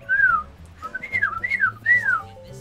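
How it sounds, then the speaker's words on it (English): A person whistles a short, wobbly tune of several rising and falling notes, close and clear, with faint game music humming underneath and no talking. "I can't whistle for shit."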